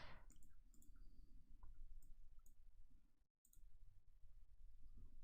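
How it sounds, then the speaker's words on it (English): Computer mouse buttons clicking during vector graphics editing, with quick, faint, close ticks coming in scattered bursts over a low room hum. "We're just clicking all over the place."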